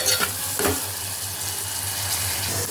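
Chopped onions with cumin seeds and a little salt frying in a pan, giving a steady close sizzle with a couple of spoon scrapes as they are stirred. No voices.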